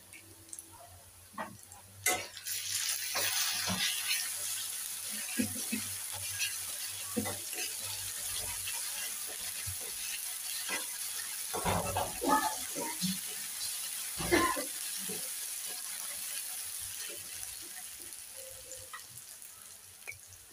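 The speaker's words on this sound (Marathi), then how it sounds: "आता ह्यामध्ये मी थोडीशी अद्रक लसूणची पेस्ट टाकून घेते." Ginger garlic paste sizzles and fries in a pan with onions for a chicken samosa filling, a steady hiss with stirring scrapes and a few sharper clatters, close and fairly quiet throughout.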